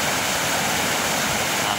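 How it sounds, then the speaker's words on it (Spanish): The swollen Triunfo river rushes in its first flood, a loud, dense, continuous roar of churning water close by with no speech. "la primera creciente del río del Triunfo."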